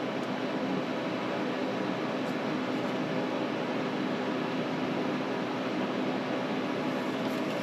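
Home freeze dryer running as a new candy batch starts, a steady broadband whooshing hum of pump and fan, constant and unvarying throughout.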